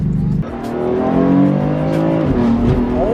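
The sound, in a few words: BMW F80 M3 with M Performance exhaust accelerating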